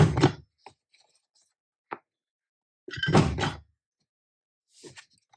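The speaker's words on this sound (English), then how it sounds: "give it a punch, score, and punch and score." An envelope maker tool punching and scoring paper, giving a few sharp, dry clunks and snips spaced irregularly over quiet, close by with no talking.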